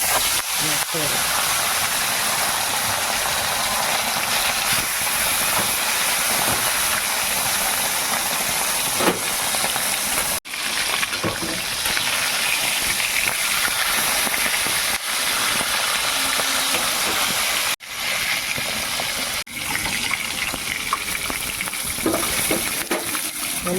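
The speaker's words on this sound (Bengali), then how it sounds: "লাল লাল করে ভেজে নিয়েছি মাছটাকে" Pieces of tomtom bhola fish fry in hot oil with a loud, continuous hiss and crackle, occasional stirring scrapes and brief breaks in the sizzle.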